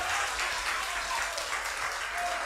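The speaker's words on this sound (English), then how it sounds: "Please, a round of applause for them." An audience applauds debaters at a high school debate grand finale between Prempeh College and Kumasi High School, a loud sustained wash of many hands clapping together without pause.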